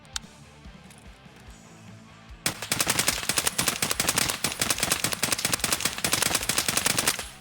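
AK-74U rifle fired in a video game, starting quiet and then a loud run of rapid shots, single and full-auto bursts in quick rhythmic succession lasting several seconds, close and alone.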